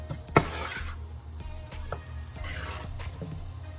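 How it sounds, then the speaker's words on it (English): A spoon gently stirring a pot of keto curried seafood soup, with a soft sizzle and low bubbling, one sharp clink of utensil on pot near the start and quieter scrapes after, close and fairly faint, no talking. "just gently, gently stir it up and allow this to cook for a little bit"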